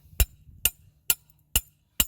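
A hammer drives a metal leghold trap stake into the ground for a coyote set outdoors: five sharp, evenly spaced metallic strikes, close and loud, with nothing else heard.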